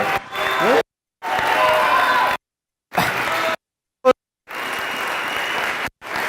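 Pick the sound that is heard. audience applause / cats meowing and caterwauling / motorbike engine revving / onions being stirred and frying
audience applause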